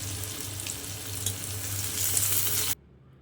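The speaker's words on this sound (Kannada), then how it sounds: "ಉದ್ದಿನ ಬೇಳೆ ಸ್ವಲ್ಪ ಕೆಂಪಗಾದ್ಮೇಲೆ ನಾನು ಇದಕ್ಕೆ ಕಟ್ ಮಾಡಿಟ್ಟಿರೋ ಈರುಳ್ಳಿನ ಸೇರಿಸ್ಕೊತಾ ಇದ್ದೀನಿ." Chopped onions and curry leaves frying in a pan with lightly browned urad dal, giving a steady, close crackling sizzle that runs for nearly three seconds before cutting off abruptly into near silence.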